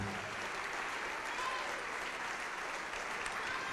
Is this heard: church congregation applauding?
yes